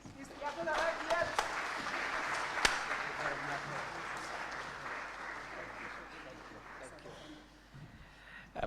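A standing audience gives Kenya's Deputy President Kindiki a warm welcome with steady, sustained applause, a few sharper claps early on, tapering off toward the end.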